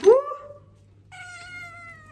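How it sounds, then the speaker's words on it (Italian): A house cat gives a short, loud meow up close at the start, then a steady tonal sound follows while a low hum runs underneath. "Guardate mio gatto"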